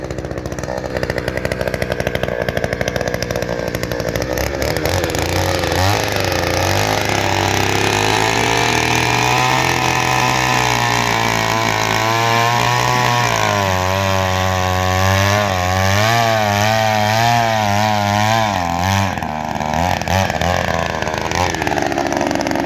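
A loud petrol engine drones continuously, rising and falling in pitch as a power auger bores holes into sandy ground.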